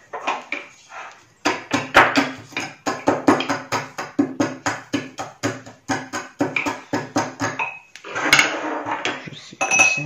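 Large berries crushed with a glass and a spoon handle while making dried wild boar meat: a fast run of sharp clinks and knocks, steady and close, with a brief pause near the end before the rapid tapping resumes.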